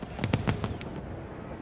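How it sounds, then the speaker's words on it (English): Post-race fireworks at the Irwin Tools Night Race, a NASCAR night race at Bristol's Thunder Valley, fire off as a rapid string of sharp bangs and crackles, about half a dozen bursts in quick succession fading into a low rumbling wash. "As the post-race fireworks"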